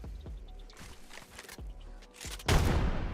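Rapid gunfire bursts and thuds in an Apex Legends ranked match, ending in a louder grenade-like blast, with repeated sharp shots close and dense throughout.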